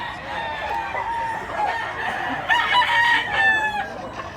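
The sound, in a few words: rooster crowing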